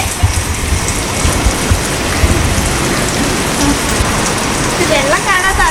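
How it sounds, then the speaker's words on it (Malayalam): Heavy rain pours onto a small balcony in Dubai, a dense, steady hiss with close patters and drips throughout; a faint voice-like sound appears briefly near the end. "ഒരു രക്ഷയില്ലാത്ത മഴ കേട്ടോ,"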